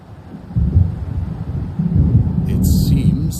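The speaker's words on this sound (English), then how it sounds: "It seems there's a storm coming." Low rolling thunder from an approaching storm in the Alan Wake Remastered video game, building into a sustained rumble, with a brief higher hiss entering near the end.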